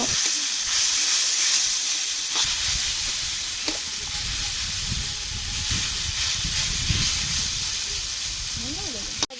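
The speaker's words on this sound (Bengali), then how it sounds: "শাকগুলো পাঁচ সাত মিনিট ধরে ভেজে নেবো" Leafy greens fry in a pan, a continuous hissing sizzle with occasional stirring knocks and scrapes, close and steady for the whole stretch.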